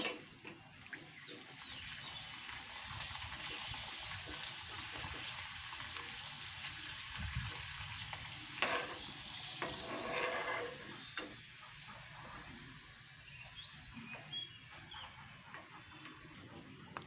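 Potato papads drop into hot refined oil and fry with a faint, uneven bubbling sizzle and small pops that swell around the middle, heard up close over a quiet background.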